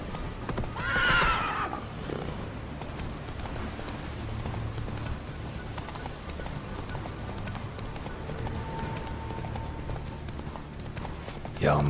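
A horse in the video game The Witcher 3, giving a loud whinny at the start and then a steady clip-clop of galloping hooves that continues under faint ambient game sound.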